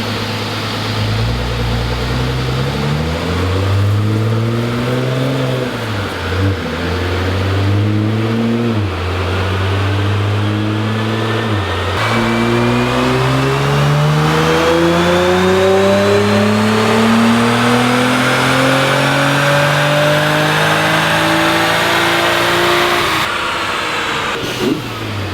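A Nissan GT-R engine revs hard on a dyno inside a building, climbing through repeated loud pulls with brief dips between gears, then a long sustained wail that ends abruptly.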